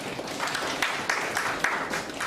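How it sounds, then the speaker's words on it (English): Audience at a certificate programme launch applauding steadily, a dense wash of many hands clapping at moderate distance with no speech over it. "So clap for yourself."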